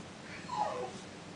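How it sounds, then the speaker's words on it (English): A puppy whimpers faintly in the background of a quiet room, a single thin, rising-and-falling whine lasting under a second, soft and somewhat distant. "My puppy crying in the background, sorry."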